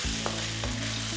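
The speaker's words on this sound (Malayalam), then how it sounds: "ഒന്ന് മിക്സ് ചെയ്യുക." Vegetable noodles with fried nuts get tossed in a hot pan, two quick scraping stirs over a steady low sizzle, close and fairly quiet.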